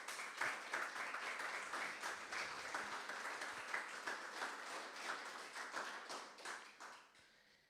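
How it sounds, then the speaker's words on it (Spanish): Church congregation gives a long round of applause, an even, dense patter of many hands heard at a moderate distance that holds steady before fading away in the last second. "Regálele fuerte esa ofrenda de aplauso."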